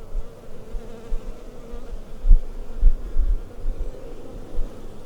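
Honey bees buzz around an open hive in a farm yard, a dense close droning hum that swells and fades as individual bees pass near.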